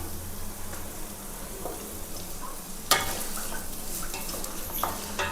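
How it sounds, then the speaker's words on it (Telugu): Chopped carrots, capsicum, beans and green chillies frying in a pan for masala upma, giving a steady soft sizzle broken by scraping stirs and a sharp metallic clink of the utensil against the pan. "వెజిటేబుల్స్ అన్నీ వేసుకున్న తర్వాత కొద్దిసేపు ఫ్రై చేసుకోవాల్సి అనేది ఉంటుంది."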